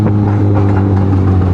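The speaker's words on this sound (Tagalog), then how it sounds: "Kasi parang mas na-enjoy ko na lang yung tunog ng motor." Kawasaki ZX6R motorcycle engine under way on a ride, a loud, steady low drone with constant rumble and no breaks.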